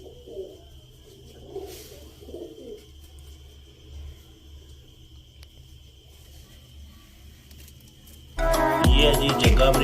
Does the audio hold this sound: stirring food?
no